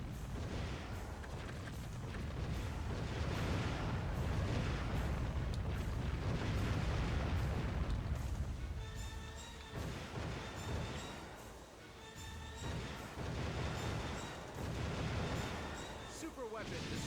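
Warship Gunner 2 naval combat in which a super weapon is destroyed, filling the mix with a dense, continuous roar of booming explosions and artillery fire that fades slightly and then rises again, with a voice talking over it.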